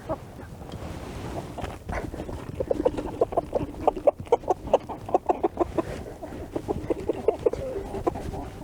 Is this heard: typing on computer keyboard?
no